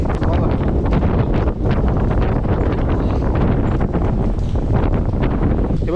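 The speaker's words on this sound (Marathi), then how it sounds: "काय पाऊस आहे काय वारा आहे" Strong, steady monsoon wind with rain roars and buffets the microphone throughout on Hadsar Fort, a dense rushing noise with no pauses.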